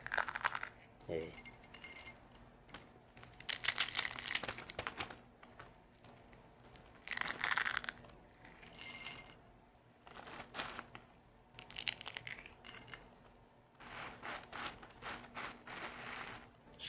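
Dry instant noodles snapped and crumbled by hand in Saudi Arabia, giving bursts of crisp cracking and crinkling packet noise in uneven clusters, with quiet gaps and some speech between.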